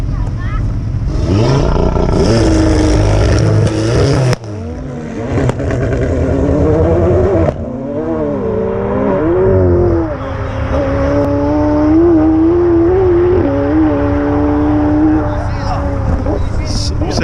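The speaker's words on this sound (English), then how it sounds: "This is a McLaren 720S versus that insane Heisenberg TTRS on Instagram" A McLaren 720S races a tuned Audi TT RS, with loud, close engine roar throughout and pitch climbing and dropping through repeated gear changes, plus a brief dip in volume partway through.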